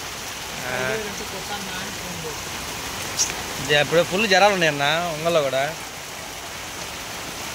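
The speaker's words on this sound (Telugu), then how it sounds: "ఒంగోలులో భారీ వర్షాలు" Steady heavy rain pours down in Ongole city, a continuous even hiss throughout while someone speaks over it.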